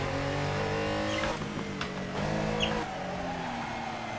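A Porsche 911 Carrera RSR 3.0 in the racing game Assetto Corsa, its engine droning loudly and then dropping in pitch through a few quick downshifts, with a brief tire squeal, and no voices.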